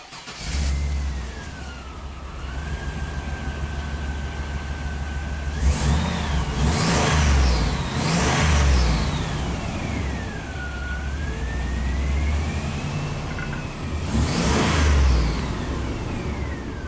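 A GM truck engine with a reduced-power fault (code P1515) idles with a steady low rumble, then revs up in several sharp bursts, with a long whining pitch sweeping up and down throughout.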